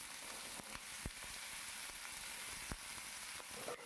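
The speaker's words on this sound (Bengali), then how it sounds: "কড়াইয়ের মধ্যে তেল চাপিয়েছি, তেলটা গরম হয়ে গেছে, তার মধ্যে আমি আলুগুলো সমস্তটা ছেড়ে দিচ্ছি" Potatoes sizzle in hot oil in an iron wok, a soft, continuous crackling hiss, fairly quiet and close, with occasional faint pops.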